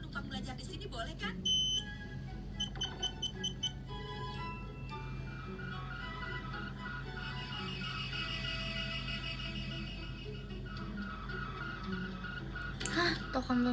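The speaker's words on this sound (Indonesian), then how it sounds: "Ini suara alatnya Doraemon loh." A busy, cartoonish run of electronic beeps, chimes and buzzing tones from a Doraemon-style gadget effect, layered and continuous over a low background hum, with short bursts of higher blips near the end.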